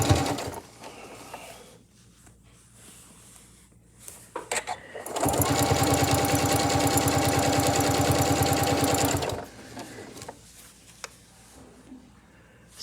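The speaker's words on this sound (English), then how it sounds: "We're going to come forward, take just a couple of stitches back." A sewing machine stitches binding with a few brief back stitches, then runs in a steady rapid whirring burst for about four seconds. Quiet handling noises come before and after it.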